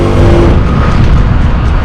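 Industrial water jet cutter running in a fire truck parts shop, cutting with sand abrasive: a loud, steady, dense roar with a low rumble and a faint hum, continuous and close throughout.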